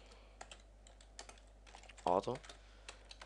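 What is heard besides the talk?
typing on a computer keyboard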